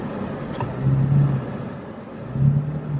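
A four-wheel drive truck revs hard in soft mud, its engine swelling into two drawn-out surges about a second apart with a low rumble between them, close and loud.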